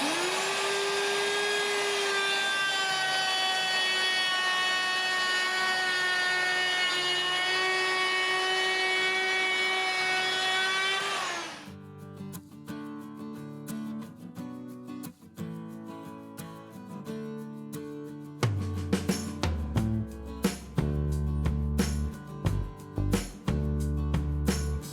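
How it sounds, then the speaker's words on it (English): A router fitted with a 1/4 inch roundover bit shapes the edge of a wooden cutting board, giving a loud, steady, high whine for about twelve seconds before it cuts off. "I'm using a 1/4 inch roundover to give it a nice edge."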